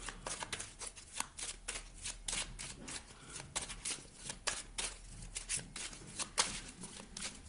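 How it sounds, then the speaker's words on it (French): A deck of oracle cards is shuffled close by, a soft, continuous riffling flutter with rapid papery flicks that runs through the whole stretch at low volume, with no speech. "Je remélange le jeu pour vous."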